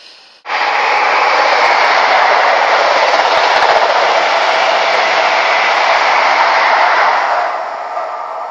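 A train rushes past close by at the mouth of Box Tunnel, a loud steady broadband roar that holds for several seconds, then eases slightly as it fades.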